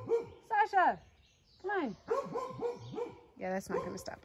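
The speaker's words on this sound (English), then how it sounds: "you can hear my uncle's dogs barking down there at the bottom of the hill" Several dogs bark and yip down at the bottom of a hill, the sounds moderately loud and overlapping in repeated bursts, while a person talks nearby.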